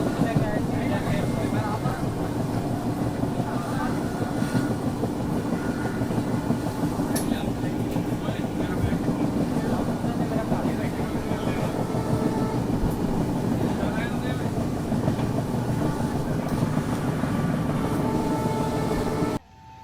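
The Amritsar Bikaner Weekly Express runs at full speed around 110 km/h, giving a steady, loud rumbling roar with rhythmic wheel clatter heard from on board for nearly twenty seconds, and a voice speaks over it.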